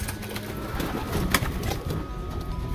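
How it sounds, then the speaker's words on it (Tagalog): Racing pigeons kept in a loft give soft, low cooing that runs steadily through the moment, with a faint mechanical hum in the background and no talking. "Gandang ibon, no?"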